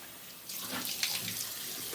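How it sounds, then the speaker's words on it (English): Tap water runs steadily into a bathroom sink while someone washes their face, a close, continuous splashing hiss that swells as hands move through the stream, with no talking. "I'm washing my face before I shave."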